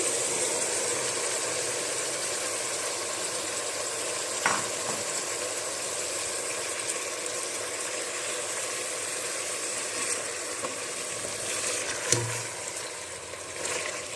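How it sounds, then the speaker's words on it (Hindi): Mutton, onion and tomatoes frying in a karahi, a steady broad sizzle that holds throughout with occasional scrapes of stirring, heard up close and fairly quiet, with no voices. "तो अब हम इसमें टमाटर ऐड करने लगे हैं।"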